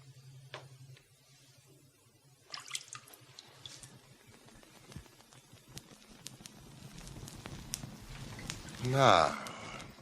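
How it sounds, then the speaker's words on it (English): Water is sprinkled onto straw as a radio drama sound effect, giving soft scattered drips and patters that build toward a louder splashy burst near the end, with quiet background noise. "And Constable, will you sprinkle it with water?"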